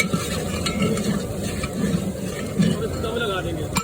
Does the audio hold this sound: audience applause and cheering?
no